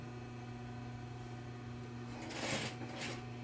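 A sewing machine runs through a folded one-centimetre fabric seam while making a small zippered multipurpose pouch, a steady close mechanical hum with brief louder bursts of stitching near the end, no talking.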